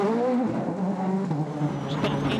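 A rally car on a Monte Carlo rally stage in the 2014 WRC season, with a steady loud engine drone holding high revs and a little tonal wavering and no pauses.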